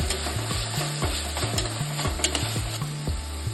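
Coriander frying in oil in a pan for Pondicherry thoku biryani, loud steady sizzling with a ladle stirring and scraping in a regular rhythm of roughly two strokes a second, close and alone.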